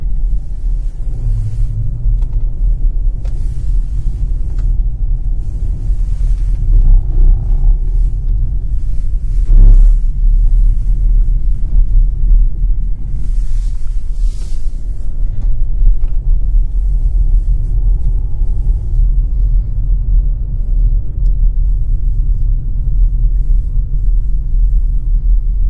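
A 2016 MAGNA all-wheel-drive car in normal mode runs a winter slalom course, giving a steady, close, low engine and road rumble that holds throughout with slight swells and no talk.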